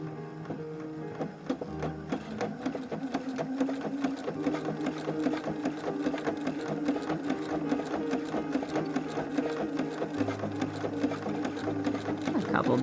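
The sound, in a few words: sewing machine stitching doll leggings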